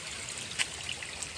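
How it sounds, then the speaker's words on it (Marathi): Water trickling and streaming steadily at an outdoor village spot, a soft continuous flow with a few small splashes, no talking. "तिकडून जर पाणी वाहतोय."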